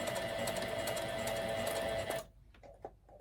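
A sewing machine runs steadily, stitching a pocket for a Christmas gift card holder with a fast whirring rattle and hum, then stops, leaving a few faint clicks and handling sounds.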